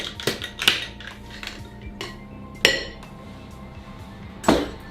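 Cocktail shaker for an Absinthe Sour being banged and handled, a few sharp metallic clinks and knocks spaced irregularly, with softer clatter between.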